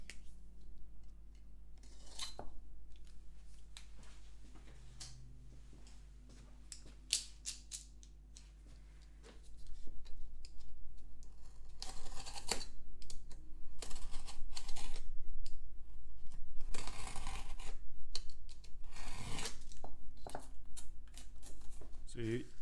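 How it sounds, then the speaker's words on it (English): A piece of a box for paintings is trimmed down to fit, giving close, scratchy cutting and rubbing bursts in short repeated strokes over a steady low hum, growing denser and louder in the second half. "I've measured this and it's a little bit longer, so what I'm going to do is I'm just going to trim that down a little bit."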